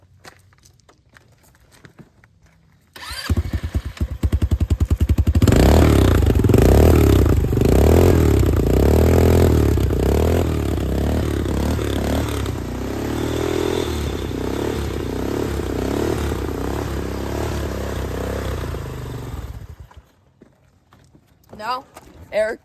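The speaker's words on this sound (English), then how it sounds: "Next, the Telmotor Bull 200 quad." Telmotor Bull 200 quad engine starting and running loud and close, a steady throbbing idle with rising revs, then cutting off, with a brief voice at the end.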